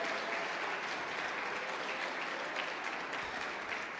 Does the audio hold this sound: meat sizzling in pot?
no